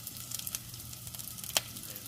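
Onions and green chillies frying for carrot rasam make a soft, steady sizzle in the pan, fairly quiet, with light scattered crackles and one brief sharper clatter near the end.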